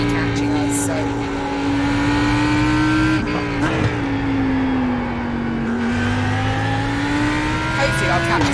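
GT3, GTE and LMP race cars in the iRacing game at the Nurburgring GP circuit, with a steady, loud engine drone that rises and falls as the car shifts gears, and brief tire noise. Someone talks over it.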